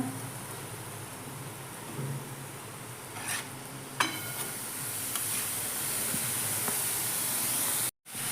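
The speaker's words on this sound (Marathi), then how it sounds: "पनीर घालून मिक्स करून घेऊया" Paneer bhurji cooks in a frying pan as the paneer is added and stirred, a continuous sizzling hiss with a few scraping clinks of a spatula against the pan, nearby and fairly loud.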